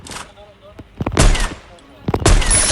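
Two sharp bursts of gunfire ring out about a second apart in a shooter video game, each a loud crack followed by a brief burst of rapid shots, with quieter shots and clicks between them.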